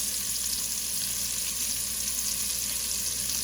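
Pressed garlic sautés in a hot pan for a Zuppa Toscana soup, giving a steady close sizzle with a constant frying hiss and no talking.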